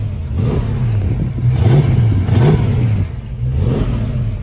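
A blue 1965 Ford Mustang with a four-barrel intake and carburetor revs repeatedly, the engine note rising and falling in several loud close blips over a steady idle, with no talking.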